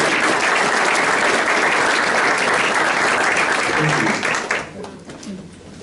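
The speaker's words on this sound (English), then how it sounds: "let's all give Karen and Zach another round of applause" An audience at a club meeting gives a loud, dense round of applause that tapers off near the end, with a few voices heard as it fades.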